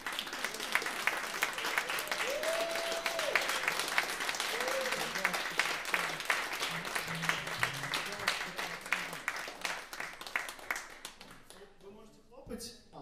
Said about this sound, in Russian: Так что хлопайте.